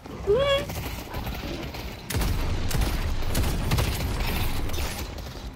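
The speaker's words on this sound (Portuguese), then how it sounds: "Ó o maluco ali trocando tiro com a gente." Gunfire crackles in a Deadlock match as the player trades shots with an enemy, with rapid overlapping bursts and mechanical game effects under a voice speaking.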